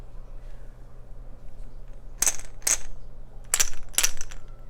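A soft hiss fades into two short rattling shakes, then two more, from a Montessori sound cylinder. They sound like grains shaken in a small container, close and fairly crisp.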